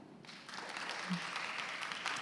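A crowd claps together in steady applause, fairly faint and distant, sustained for a couple of seconds.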